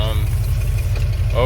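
A 1990 Ford E-150 Econoline van with a 5.8L engine and E4OD transmission runs steadily with a loud, low, even rumble, with faint talk over it.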